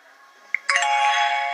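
A doorbell rings indoors with a single short ding followed by a sustained, loud chime tone that rings on and holds steadily to the end, with no talking.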